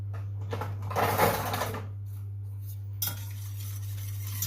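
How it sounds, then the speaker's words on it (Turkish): An egg being whisked with sugar in a bowl for eclair batter. Fast, steady scraping and clinking strokes run close and continuous over a constant low electrical hum. "bir tane yumurta bütün güzelce çırpıyoruz"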